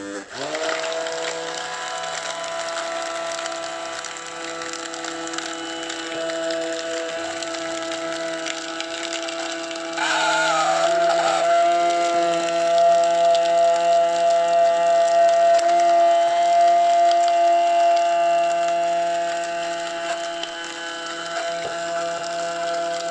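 A blender whirs continuously, mixing orange juice with a splash of Cointreau for crêpes Suzette, a steady mid-pitched motor whine that rises in pitch and intensity midway before easing back.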